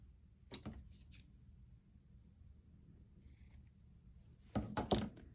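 Scissors cutting paper for a shabby chic journal cover, a few short crisp snips spaced apart, with a quick cluster of cuts near the end, close and clear over quiet background.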